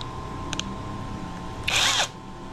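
A cheap, low-priced impact wrench gives two faint clicks, then runs in one short, close whirring burst that stops abruptly.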